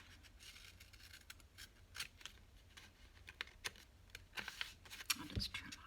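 Scissors snipping paper for a junk journal, a series of quiet, short crisp cuts with faint rustling, close and soft.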